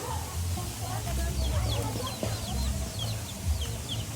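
Several chickens cluck and chatter steadily in a low, continuous murmur, with a few higher squawks scattered throughout.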